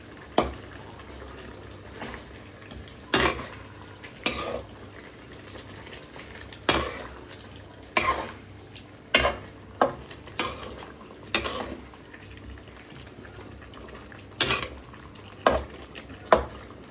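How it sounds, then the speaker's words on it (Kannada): Chicken fries in ghee for a ghee roast with curry leaves, a soft continuous sizzle punctuated by repeated sharp clacks of a spoon stirring against the pan at irregular intervals. "ಇದು ತುಪ್ಪದಲ್ಲಿ ಈಗ ಒಂದು 15 ನಿಮಿಷ ಫ್ರೈ ಹಾಕ್ಲಿಕ್ಕೆ ಉಂಟು. ಹೀಗೆ ಫ್ರೈ ಆಗಲಿ."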